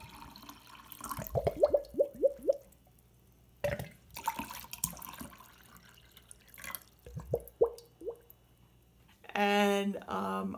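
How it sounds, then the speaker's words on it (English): A fish-shaped gurgle pot water pitcher gurgles as water is poured, giving two quick runs of rising glugs close by, with talking in between. "It gurgles when you pour water out of it."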